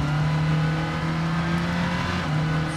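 A rally car engine screams at full throttle in the WRC 5 video game during a Junior WRC stage of Rally Spain, a loud, steady, high-revving drone that holds near the rev limiter.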